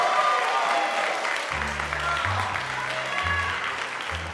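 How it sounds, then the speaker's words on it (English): Audience applause at a vibraphone senior recital: continuous, moderately loud clapping from a seated crowd throughout, with low voices murmuring beneath it partway through. "Can we get a round of applause?"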